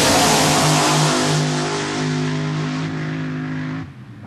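A 2,300-pound Quicksilver fiberglass Jeep CJ7 replica drag car with a Milodon engine roars loudly and steadily at close range, its pitch holding high before the sound cuts off sharply near the end.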